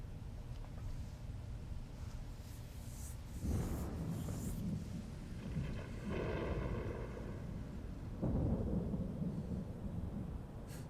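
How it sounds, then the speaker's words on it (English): Thunder rolls in a lightning storm in the video game Final Fantasy 16, with deep rumbling swells rising over a steady roar of wind and rain. "A little bit ominous, all those lightning everywhere."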